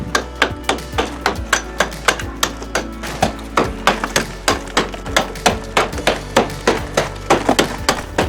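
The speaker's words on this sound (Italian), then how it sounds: "ora con una martellina vado a rimuovere la malta in eccesso che hanno usato" A small mason's hammer chipping excess mortar off a freshly built wall, sharp loud knocks repeating rapidly and fairly regularly, close up and alone.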